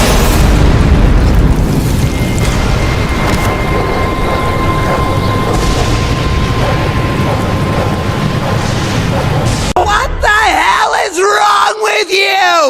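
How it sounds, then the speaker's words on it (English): A gunshot in Telltale's The Walking Dead video game lands as a loud boom within a dense, roaring mix of screams and yelling, followed by tense voices. "That boy AJ shot him, ending his life before he could even begin to atone for what he done"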